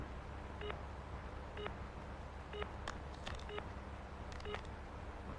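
Several short electronic keypad tones sound one at a time at a steady pace, quiet and close, with faint clicks between them and no talking.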